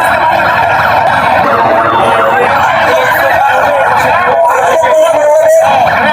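Ambulance siren wailing through a busy Dhaka street during a student protest where traffic has stopped, its rising and falling tone sustained and loud amid dense crowd noise and voices.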